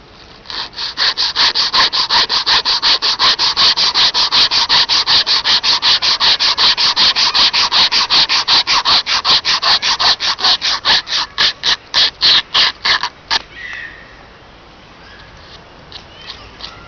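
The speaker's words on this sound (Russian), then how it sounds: "Как вы видите, пилит она достаточно очень быстро" Rapid, steady back-and-forth rasping of a Gigli wire saw through wood, loud and close, speeding evenly then slowing into a few separate strokes before stopping.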